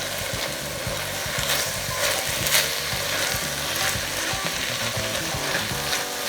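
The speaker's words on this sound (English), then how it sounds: "Put the lid on and let it simmer for about 3 to 5 minutes." Ground turkey chili cooking in a pot, a steady close sizzle and crackle with a faint rhythmic bubbling underneath, continuous throughout.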